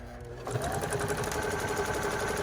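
A repaired sewing machine runs a reverse stitch, starting up with a steady, fast mechanical whir and hum that continues loud and close.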